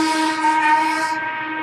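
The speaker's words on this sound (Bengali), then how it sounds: "আপনারা দেখতে পাচ্ছেন এখন টয় ট্রেন যাচ্ছে এখান দিয়ে" Darjeeling toy train passing at Batasia Loop, heard as a steady, sustained tonal whistle-like sound held for about a second and a half.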